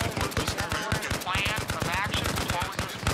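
Rapid bursts of automatic gunfire in the military shooter Arma Reforger, dense rattling shots close by with a couple of distant whizzing sounds, continuous and loud, with a voice faintly underneath.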